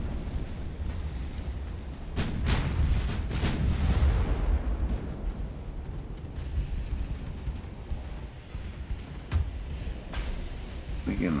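Naval gunfire in the Ultimate Admiral: Dreadnoughts warship game. Heavy booms and rumbling salvos come from shipboard guns, with several sharp reports standing out over a continuous low battle roar.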